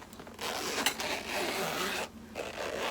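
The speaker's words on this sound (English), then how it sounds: "it zips open, and it's actually a thing to hold sewing stuff and knitting stuff." A zipper on a vintage sewing and knitting case is pulled open close by in one continuous rasp that pauses briefly and then resumes.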